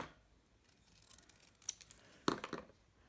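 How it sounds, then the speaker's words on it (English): Scissors make a few quick, faint snips through cardstock for a handmade card, close by in a quiet room, with light paper rustling before the cuts. "I'm going to snip a little bit off the top."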